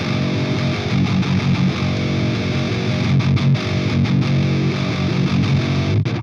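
A loud, heavily distorted electric guitar riff with thick sustained chords and rhythmic chugging, playing steadily before cutting off abruptly.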